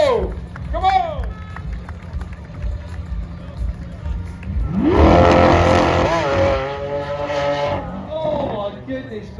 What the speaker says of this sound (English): that Aventador's got a special noise though